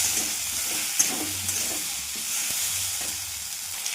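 Potatoes for aloo posto sauté with turmeric in a pan, giving a steady close sizzle broken by rhythmic stirring scrapes, with no talking.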